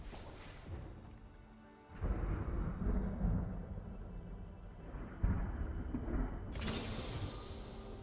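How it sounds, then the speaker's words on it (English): Thunder in Teamfight Tactics rolls in a deep, rumbling swell after a sharp opening crack, sustained and heavy with a second surge midway and a hiss of noise at the end. "The thunder calls."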